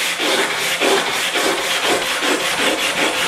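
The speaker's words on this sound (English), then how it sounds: "start scrubbing away the rusty spots on here and get a look at a cleaner plate" Hand scrubbing of rusty spots on a woodworking hand saw's steel plate, a loud, close, rhythmic rasping with regular back-and-forth strokes, about two per second, and no voices.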